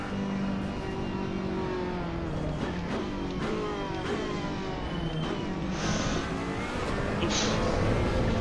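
Race car engine in Assetto Corsa EVO on ultra settings, a steady droning hum at moderate level with shifting pitch as it drives, continuous throughout with no talk.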